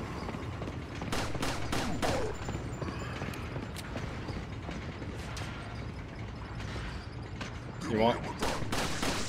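Pistol shots from Resident Evil 4 ring out as a handful of sharp, separate cracks, close and fairly loud, mixed with game effects while someone talks briefly.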